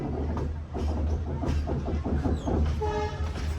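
A meter gauge train rolling into Veraval Junction station, a steady rumble and wheel clatter with a brief horn tone near the end.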